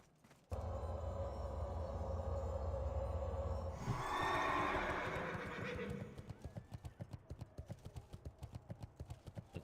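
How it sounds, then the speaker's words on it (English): Paladin horse from World of Warcraft: The Burning Crusade neighs loudly in a long whinny, followed by a steady, rapid run of clip-clopping hooves that continues to the end. "It's a Paladin horse."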